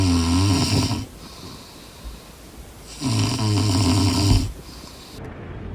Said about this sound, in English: passes out in about 4 seconds and starts snoring